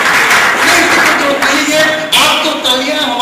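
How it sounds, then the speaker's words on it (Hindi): An audience at a kavi sammelan poetry gathering in Anuppur claps continuously, a loud, dense wash of applause that fills the whole stretch, with some talking underneath. "ताली बजा रहे हैं।"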